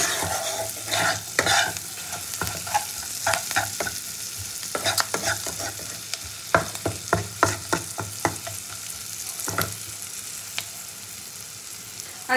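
Spice masala for butter paneer frying in a pan while being stirred, turned until lightly browned. A steady close sizzle runs under repeated sharp scraping strokes of the spoon, with no talk.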